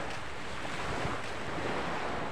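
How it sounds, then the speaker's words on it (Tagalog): Surf rolls continuously onto a sandy beach shore, a steady broadband wash with wind buffeting the microphone and no voices. "Sarap tumakbo dito sa tabing dagat sa may buhangin."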